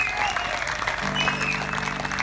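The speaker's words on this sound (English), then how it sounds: "how about a round of applause for all of our veterans?" An audience applauds veterans at a dove release event, a dense, steady wash of clapping heard throughout, with a brief tone sounding in the background.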